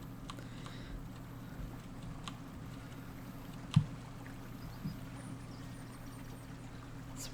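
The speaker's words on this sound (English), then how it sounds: "It's a pretty little stream." A small stream flowing in Colossal Cave Reimagined, a faint, steady wash of running water over a low hum, with one soft knock partway through and no speech.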